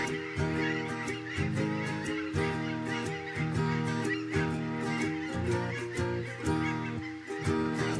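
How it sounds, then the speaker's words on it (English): Several geese honk loudly and repeatedly at close range in an uneven, overlapping chorus that continues throughout without pause. "Those geese are noisy."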